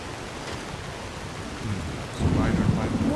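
A thunderstorm in the video game Skyrim, with steady rain hissing throughout and a low rumble of thunder swelling loudly in the second half.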